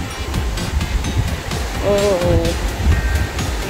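Rushing sea surf and wind blowing across the microphone on a beach at Atimonan–Guinayangan, Quezon Province, Philippines, continuous and close, with a short exclamation partway through.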